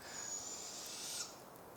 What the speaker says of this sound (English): I flash the light up to the trees, and there they were, just a couple owls